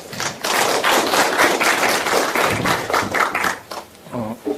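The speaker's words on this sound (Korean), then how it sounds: "박수 한번 보내주시죠" Applause from an audience welcoming a professor at a literary lecture event: a room of people clapping in a brisk, steady patter that thins out near the end, where a voice briefly begins speaking.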